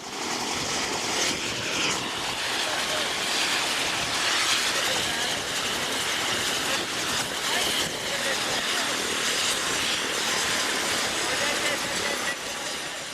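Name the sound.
Mi-17 helicopter on the ground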